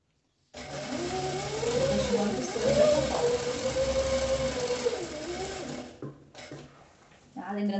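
A sewing machine stitches a placemat fitted with cutlery and cup pockets, a steady motor whir running for several seconds, stopping, then starting again in short bursts.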